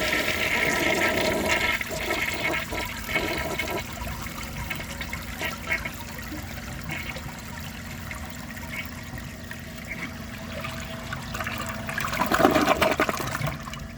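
A 1975 Kohler Highline toilet flushes a large dish towel, a loud, close rush of water swirling down that settles into steady trickling and surges again near the end.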